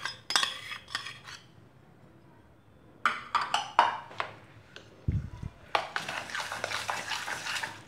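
Shrikhand being mixed with finely chopped dry fruits and milk-soaked saffron threads, giving a run of close clinks and scrapes of a spoon against a bowl in bursts, with a brief low thump partway through.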